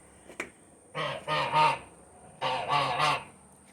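A goose on a front porch gives two groups of three loud, nasal honks in quick succession, close by, with a faint click before them.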